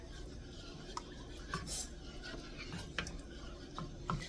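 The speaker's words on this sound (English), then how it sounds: "We're going to keep on stirring" A spoon scrapes and taps against a pot while healthier Alfredo sauce for Cajun shrimp Alfredo is stirred, giving faint, quiet clinks and scrapes at irregular intervals over a low, steady background.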